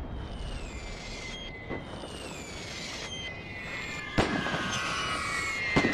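Artillery shells explode across a battlefield in Napoleon: Total War, sounding as a dense roll of booms and crackling blasts with sharper hits standing out amid constant battle noise.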